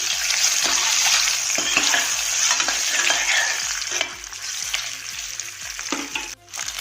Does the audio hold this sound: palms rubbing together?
no